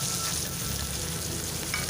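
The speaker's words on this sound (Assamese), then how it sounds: "সেয়েহে এনেকৈ ভাজি দিছোঁ" Vegetables fry in hot oil with onion and dried chilli, giving a close, steady, dense sizzle with no voices.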